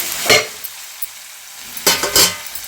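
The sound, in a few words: cleaned chicken added to frying onions and tomatoes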